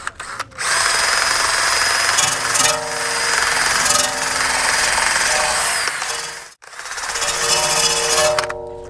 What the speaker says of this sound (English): I'm just going to use a wire brush attachment for my drill.